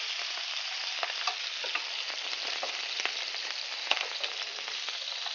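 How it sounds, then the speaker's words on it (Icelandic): Chicken fries in a pan with a steady, dense sizzle and crackle, close and continuous, with small pops scattered throughout. "ég nota bara að setja hann bara hérna í pönnunni og leyfa honum að steikjast í korter"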